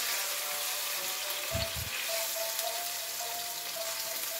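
Blended tomato and onion paste sizzling in a hot pan, a steady close crackle with a brief low stirring thump partway through.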